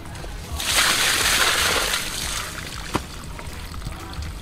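Water sloshes and splashes loudly for about two seconds as it is tipped onto a plant, beside a wheel pump drawing from a deep well, then fades to a quieter outdoor background with a single sharp knock.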